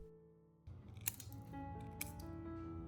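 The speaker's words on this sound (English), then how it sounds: "Next, for safety, cut off the sharp edge on the outside." Scissors snip off the sharp outer edge of a metal peeler blade, with two crisp close cuts about a second apart over a low background hum.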